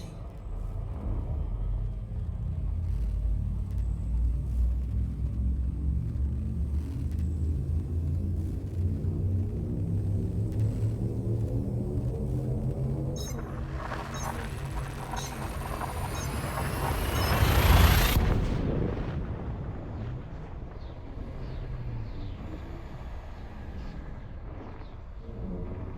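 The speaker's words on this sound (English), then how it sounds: "Frameshift drive charging." In the Elite Dangerous space game, a spacecraft's frame shift drive charges with a deep rumbling drone and rising pulsing tones. It builds to a loud whooshing surge as the jump engages, then settles into a fainter hum.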